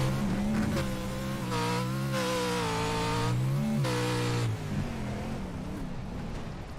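A Pro4 racing truck engine roars nearby at Crandon, its pitch dropping as it brakes, then climbing again as it accelerates hard, loud and continuous.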